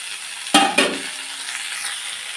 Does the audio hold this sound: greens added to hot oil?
yes